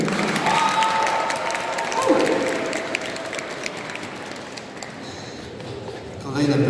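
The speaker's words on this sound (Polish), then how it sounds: "Brawa wielkie!" An audience claps steadily through a Lenten retreat gathering in Grudziądz, with dense, sustained applause from a room full of people. A voice and a few tonal sounds ride over it, and the clapping swells briefly at the end.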